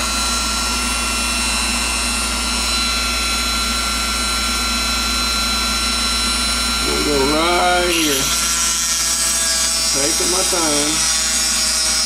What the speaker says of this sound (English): So you want to drill a hole behind each terminal.